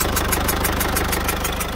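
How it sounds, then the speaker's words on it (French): Cold start of a Citroën C4 Picasso 1.6 HDi 110 diesel engine, checked for leaking injector seals: a steady, close, loud idle with a fast rhythmic clatter and ticking, and no talk over it. "Le matin, quand on met en route le moteur froid, on fait bien attention à écouter."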